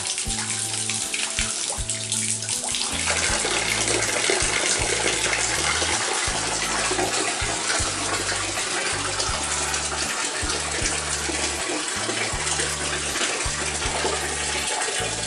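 Water pouring steadily from an electric shower fitted with a temperature control system, a constant hissing rush with a low mechanical hum pulsing beneath it throughout.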